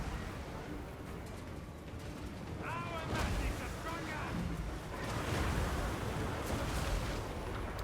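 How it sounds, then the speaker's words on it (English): Skaven Rattling Gunners fire in a Total War: Warhammer 2 battle, rapid crackling bursts of gunfire rising over a rushing battlefield din, moderately loud, with talking throughout. "Rattling gunners getting some lovely shots."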